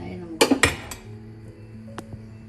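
A metal lid set down on a cooking pan of ginger chicken gravy, giving two sharp clanks close together, followed by softer clinks and a faint tap against low kitchen background hum.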